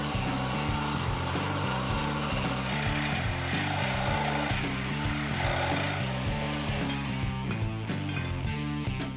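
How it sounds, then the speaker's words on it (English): A Sawzall reciprocating saw cuts through a steel cross member under a 2012 GMC 2500 4x4 pickup, giving a loud, continuous rapid buzzing and rattling that barely changes across the cut. "And the Sawzall is gonna take care of that real quick."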